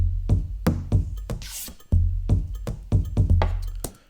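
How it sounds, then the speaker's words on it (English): A simple electronic drum beat plays alone, with punchy low kicks and crisp snare-like hits in a steady, repeating pattern. "I've made a very simple beat that sounds a bit like this."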